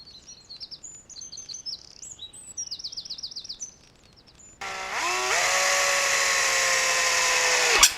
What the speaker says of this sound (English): just drill a hole through